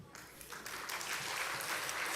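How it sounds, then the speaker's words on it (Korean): A church congregation at a Sunday service applauds award recipients, the clapping swelling from a few hands into a dense, sustained round filling the hall. "호명할 때 큰 박수로 맞아주시기 바랍니다"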